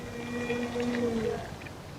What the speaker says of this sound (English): The growls are an attempt to intimidate the lion.